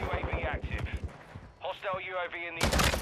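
Rapid bursts from a 7.62 rifle fitted with a 50-round magazine in a shooter video game, sharp repeated cracks in quick automatic strings with brief pauses between bursts.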